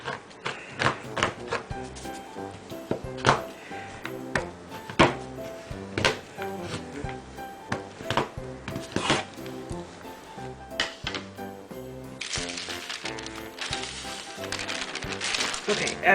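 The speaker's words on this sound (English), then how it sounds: "This took me about maybe 10 minutes to chop this up, or the 3 other bars." A knife chops bars of chocolate on a board in a string of sharp taps and knocks, irregular and close, with a voice talking over parts of it.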